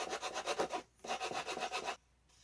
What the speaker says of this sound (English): I'll take some fine sandpaper and we'll clean up the pocket